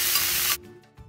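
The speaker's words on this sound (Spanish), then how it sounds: "Ya el aceite está caliente, lo que ahora voy a hacer, voy a agregar los nopales para freírlos solamente un poco." Nopales cactus paddles dropped into hot vegetable oil give a loud, hissing sizzle for about half a second that cuts off abruptly, followed by faint clicks and a soft thud.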